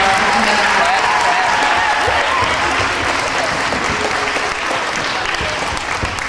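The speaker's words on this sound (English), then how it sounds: "please give her a round of applause." Loud, sustained applause from a school audience welcoming a school board member, a dense roar of many hands that stays strong and even for over six seconds.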